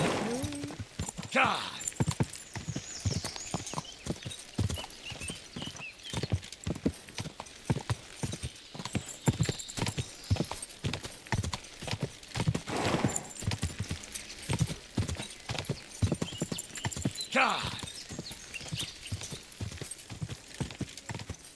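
In the video game Kingdom Come: Deliverance II, steady horse hoof clip-clops trot along continuously at a brisk rhythm, with occasional louder whooshing swells and voices talking over the top.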